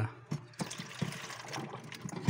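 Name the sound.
water being poured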